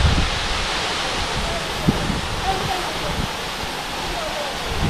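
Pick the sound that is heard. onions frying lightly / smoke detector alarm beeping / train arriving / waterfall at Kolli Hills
waterfall at Kolli Hills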